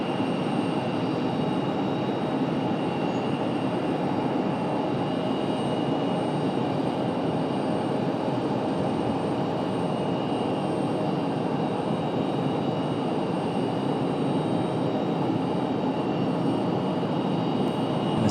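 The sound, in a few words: Breeze Airways airliner flying at Raleigh-Durham airport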